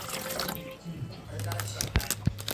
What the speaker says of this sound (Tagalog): kailangan maglagay tayo ng tubig para sa ating cracker na graham